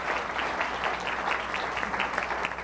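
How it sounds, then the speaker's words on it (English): An audience at a Richmond public forum on food and jobs applauds steadily and fairly close throughout, a dense wash of clapping with no talking over it. "Give him a round of applause."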